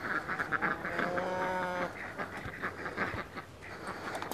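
Ducks quacking in a home garden with fruit trees after cyclone rain, a cluster of nasal harmonic calls mid-clip over steady background noise, followed by scattered softer calls.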